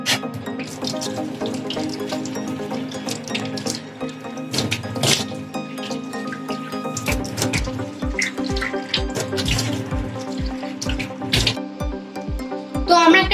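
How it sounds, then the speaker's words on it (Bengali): Tap water running steadily into a sink while a face is washed, with splashes and scattered drips close by, and a rapid regular tapping pattern in the latter half. "আর এবার আমরা মুখটা ধুয়ে নিচ্ছি।"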